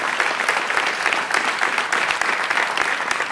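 Steady, dense applause from a crowd at a New York bike safety announcement, honouring Families for Safe Streets, with many hands clapping continuously and evenly throughout.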